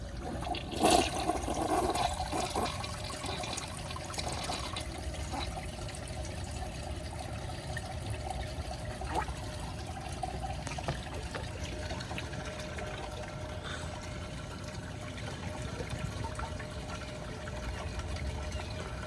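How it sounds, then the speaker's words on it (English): A Briggs Beautyware toilet flushing and its tank refilling, a burst of rushing water at the start settling into a long, steady hiss and trickle of filling water, fairly quiet and close. "Let's see how it does on another flush."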